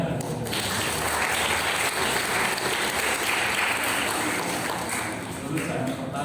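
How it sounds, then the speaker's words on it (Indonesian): Audience at a school graduation for the first class from a new building breaks into applause, thick continuous clapping that swells and holds before tapering slightly near the end, loud and unaccompanied by talk. "Tepuk tangan."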